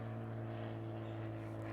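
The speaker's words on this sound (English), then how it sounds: "There's a plane." A distant airplane passes high overhead outdoors on a summer day, its faint, steady droning hum continuing unbroken for a couple of seconds without talking.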